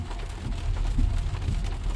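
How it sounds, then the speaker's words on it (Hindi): Steady heavy mountain rain near Kasol and Mandi pours down with a dense, continuous hiss and low rumble, no voices. "क्योंकि भाई तेज बारिश है, आप ये समझो।"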